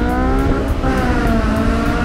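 A Honda S2000 sports car engine revs hard and steady near the microphone, a loud continuous rising whine with strong harmonics throughout, no talking.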